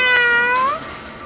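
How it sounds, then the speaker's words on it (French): A house cat gives one clear, close meow, rising and then falling, lasting about a second with nothing else around it. "miaou, miaou, miaou."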